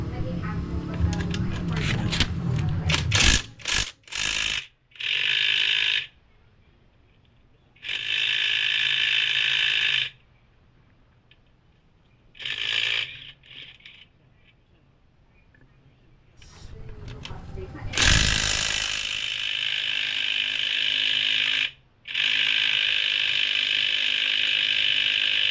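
Hand tools ratcheting while a motorcycle wheel is taken off for cleaning, bursts of fast clicking pawl sounds separated by quiet gaps, close and fairly loud, with a person talking at times.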